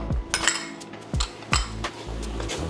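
Flour worked into potatoes and onion gravy in a pan, a spoon knocking and scraping against the pan in a few sharp separate clinks over a low background, close with no talking.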